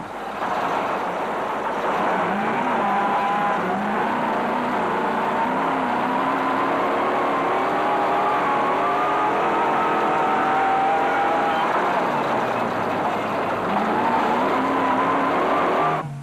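Off-road race cars at a 2005 race in muddy conditions, engines revving loudly and continuously with rising and falling tones as cars pass and slide, with no talk.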